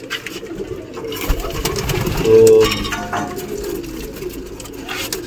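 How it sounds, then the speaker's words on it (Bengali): Pigeons, including a young one, coo softly at close range while being offered drinking water, the low burbling calls rising briefly in the middle amid rustling and shuffling; a voice says a single word. "তো দেখছেন এবার আমি এই ছোট পায়রাকে দেওয়া শুরু করেছি।"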